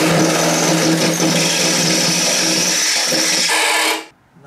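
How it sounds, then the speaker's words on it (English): Power drill boring out a hole in a hood part on a 1990 Miata, a loud continuous whine held for about four seconds before cutting off abruptly. "I might have to drill that out a little bit because I can't seem to get that in there."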